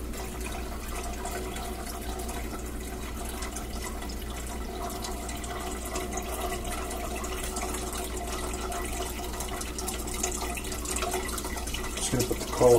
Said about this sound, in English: I got my colander here, so I can drain everything, and I'll do a little sparge with some hot water